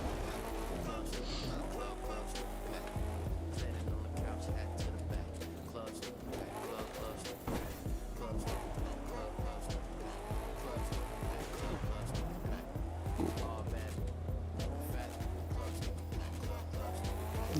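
An ATV in The Crew 2 racing game, an engine droning with shifting pitch and tire skids over a low steady hum, with music and talk running underneath throughout.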